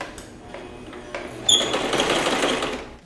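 A sewing machine stitching as the foot pedal is pressed slowly, a close, steady mechanical whirr that starts with a sharp click and runs continuously to the end, with no talking.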